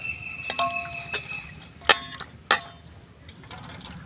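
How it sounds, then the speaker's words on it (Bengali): Pumpkin flowers washed by hand in water, with a few soft splashes, drips and light clinks of a bowl, close and quiet, with pauses between them. "ফুলগুলো জল দিয়ে ভালো করে ধুয়ে নেব"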